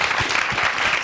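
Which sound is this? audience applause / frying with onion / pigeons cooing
audience applause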